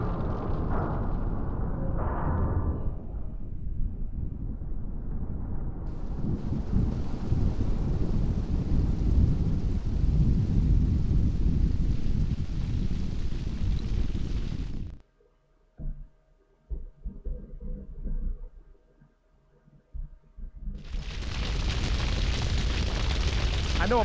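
A heavy explosion in Grand Theft Auto III on PlayStation 2 rolls out as a long, loud rumbling roar, drops away to near quiet with scattered low noises, then a fresh loud burst of noise surges back near the end.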